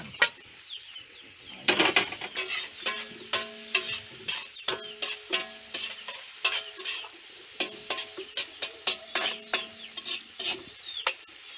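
Ginger and onion sautéed and stirred in a pan for a crab with chili sauce dish, with a steady sizzle under repeated sharp scrapes and clacks of a utensil against the pan, close and fairly loud.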